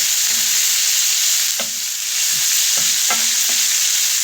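Minced sacrificial meat frying in oil, a loud continuous sizzle broken by several spoon scrapes as it is stirred in the pan, with no talking.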